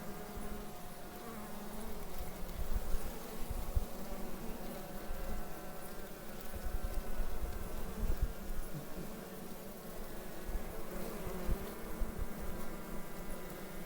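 Honeybees buzz steadily inside a hive fitted with fresh wax foundation, a close, continuous droning hum that swells and fades slightly, with no voices.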